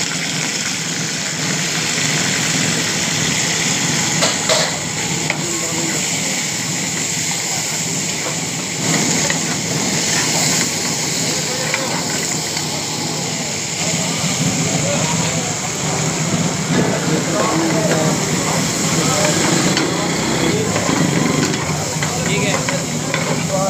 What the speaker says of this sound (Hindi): इसको थोड़ा सा फ्राई करेंगे हम चिकन को